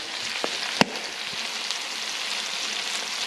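Rice hits hot bacon grease in a pan and fries with a steady, bright sizzle, a sharp scrape or clack from the stirring spoon cutting in near the start, close and alone.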